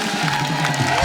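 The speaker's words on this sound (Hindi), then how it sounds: "एक बार जोरदार तालियां मिस्टर ऋतिक रोशन के लिए" A studio audience at a comedy show cheers and applauds for Hrithik Roshan, a steady dense crowd roar with scattered shouts throughout.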